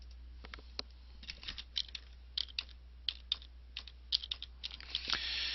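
A search term is typed on a computer keyboard in quick, light, irregular keystroke clusters, close and quiet against a faint steady hum.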